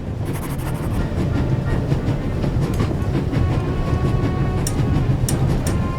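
Steam-era train rolling along rails in the video game Raven Remastered: a continuous close clatter of wheels over track joints with a dense rattling rhythm and a few sharp metallic clicks near the end, with no speech.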